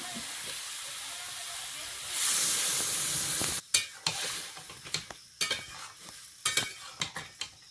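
Malabar spinach and vegetables frying in a pan, with a loud, steady sizzling hiss that breaks off into a series of sharp stirring scrapes and clatters.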